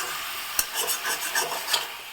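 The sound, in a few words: mixing chicken with spices in a pan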